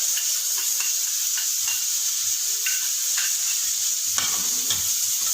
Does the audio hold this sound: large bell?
no